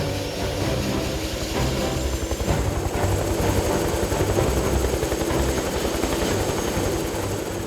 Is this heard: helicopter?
yes